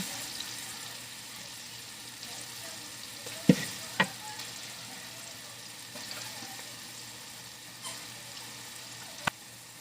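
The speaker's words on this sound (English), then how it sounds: "All of them down in that oil. They can cook up really good." Onion strips and Texas toothpicks bubble and hiss as they deep fry in oil, a steady soft sizzle broken by a few sharp clinks from utensils.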